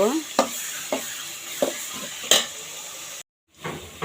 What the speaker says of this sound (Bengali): তার জন্য কাঁচামরিচ এবং পেঁয়াজটা আমি ব্রাউন কালার করে ভেজে নিব।